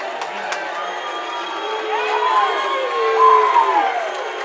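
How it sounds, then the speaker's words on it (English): A crowd at a regional wrestling championship boos the returning state champion, a sustained loud roar of voices lasting throughout, with a commentator talking over it. "I don't like booing the returning state champion here"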